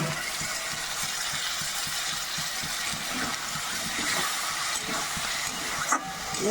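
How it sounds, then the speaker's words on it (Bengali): Raw spice paste frying in oil, a dense steady hiss of sizzling close by, with a faint rhythmic scraping underneath and no talking. "এই কাঁচা মশলাটা ভালো করে ভাজা হয়ে গেছে, কষানো হয়ে গেছে।"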